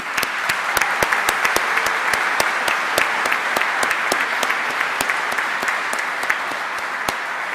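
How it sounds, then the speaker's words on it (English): A graduation ceremony crowd applauds parents, family and friends, sustained hall clapping with sharp individual claps standing out close by against the dense background patter. "let's give them a big round of applause"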